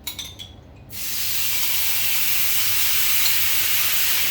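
Veal stock poured into a hot pan after the fat is removed, bursting into a loud, steady sizzle and hiss that holds for several seconds after a brief clatter.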